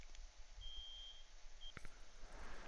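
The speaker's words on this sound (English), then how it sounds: "That's our alarm system. So if we have unauthorized players, the alarm goes off." A base alarm system in the video game Rust emits a thin electronic beep, one long tone followed by a short one, faint over low background noise.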